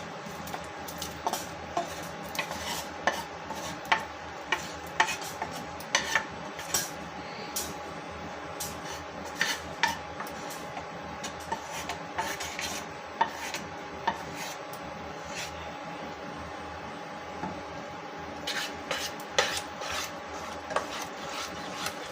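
Vegetables for white pasta are stirred in a pan, a long stretch of soft scraping and rubbing punctuated by light clinks of utensil against metal, steady and close, with no talking.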